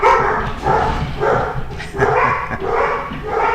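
A dog barks in repeated, evenly spaced woofs, close and fairly loud, with a soft whimpering yip mixed into the run of barks and no voices.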